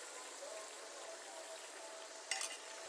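Finely chopped small onions with salt fry in a pan under a soft, even sizzle. Near the end one short scrape of stirring rises above the hiss.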